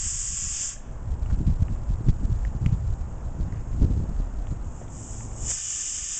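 Outdoors on a 5-foot parabolic solar stove, a Hawkins Classic 3-litre pressure cooker lets out a steady high hiss at the start and again near the end, with a low rumble of wind between.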